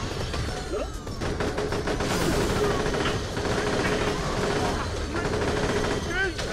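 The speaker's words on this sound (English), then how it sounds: "So we'll go back to an assault rifle." Rapid assault rifle fire in Borderlands: The Pre-Sequel, dense continuous bursts of shots layered with game effects and explosions, loud and sustained throughout.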